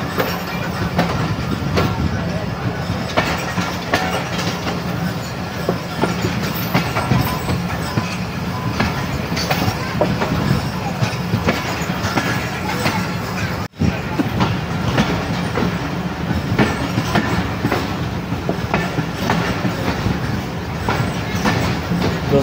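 The Allama Iqbal Express rumbles steadily along the rails, heard from inside the last coach on a fast run from Sahiwal to Khanpur, with a continuous loud clatter of wheels and a brief dropout midway.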